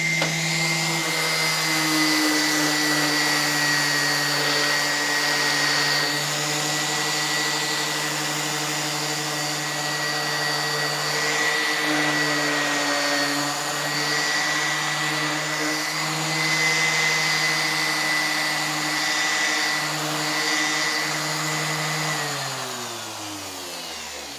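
A powered air blower clears dust off freshly branded cut wooden boards with a loud, steady tonal whine held close for over twenty seconds, then spins down at the end, with no talking.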